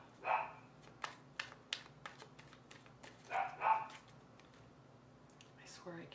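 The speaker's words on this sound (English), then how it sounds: "I can't do one video without them barking." Dogs bark indoors in a series of short, sharp barks spread across the moment, with a couple of louder bursts. A faint steady hum sits underneath.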